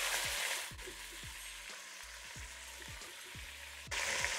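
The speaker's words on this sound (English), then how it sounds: "You want to hear that nice sizzle that it has." Pot roast dropped into hot canola oil in a Dutch oven, sizzling steadily with a soft crackle, plus repeated low knocks and scrapes of handling, close and fairly quiet, no talking.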